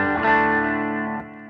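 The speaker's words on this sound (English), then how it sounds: "This is the sound of the guitar by itself." A Line 6 James Tyler Variax digital guitar plays in its natural, unmodeled voice: a single strummed chord rings out clearly and sustains for about a second before being cut short.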